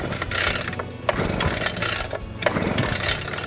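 A Cobra BP43C petrol backpack blower, new and on choke, being pull-started: repeated rasping recoil-cord pulls with ratcheting mechanical clatter, close and loud, in uneven strokes without the engine catching.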